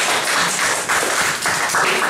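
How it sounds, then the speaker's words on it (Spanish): Audience applause at an academic colloquium, a dense, steady wash of many hands clapping together that holds at a fairly loud level for about two seconds with no talking over it. "Un aplauso para ti."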